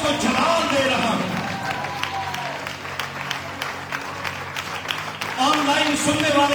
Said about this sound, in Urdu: آج میں اس کو یہ زوردار تالیاں دے رہا ہوں, یہ تالیوں کا ہدیہ اس کو دے رہا ہوں